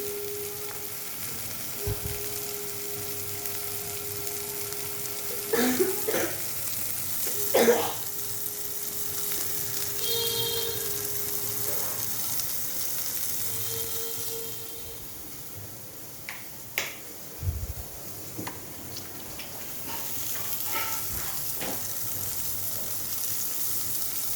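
Capsicum frying in ghee in a pan gives a steady, moderate sizzle throughout, broken by a few sharp clicks and taps of stirring, with no talking.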